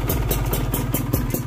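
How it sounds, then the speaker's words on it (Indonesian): A Kawasaki Ninja 150 RR two-stroke motorcycle engine idles steadily with a soft, even, rapid pulsing putter heard up close, smooth and quiet with no revving. "Untuk suara masih adem banget guys ya, suara mesin masih adem banget."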